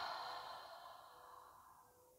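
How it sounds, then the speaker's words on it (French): A slow, steady exhale through the mouth during a breathing meditation, a soft airy breath that starts strong and fades gradually over about two seconds, close and alone with no talking. "Expire par la bouche."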